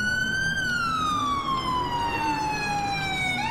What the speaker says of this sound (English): Now let's put our sirens on.